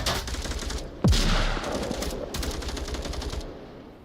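Gunfire in the VR shooter Onward: rapid automatic bursts, one sharp loud report with a booming drop, then further chattering volleys at close to mid range, with no talk.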